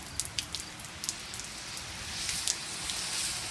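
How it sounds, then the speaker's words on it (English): Rain falls steadily outside a garage, a soft continuous patter with scattered sharper drops hitting a surface nearby. "It's just raining."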